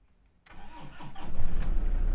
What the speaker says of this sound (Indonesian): Kemudian kita coba hidupkan mesinnya.